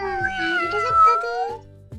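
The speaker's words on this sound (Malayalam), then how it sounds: "ഒരു പൂച്ച ഇങ്ങനെ മ്യാവ് മ്യാവ് എന്ന് പറഞ്ഞിട്ട് ഇങ്ങനെ കിടക്കണു" A cat lying down meows repeatedly in drawn-out, wavering cries, close and clear over a soft rhythmic backing.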